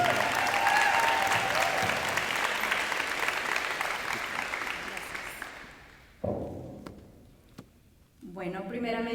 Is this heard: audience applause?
yes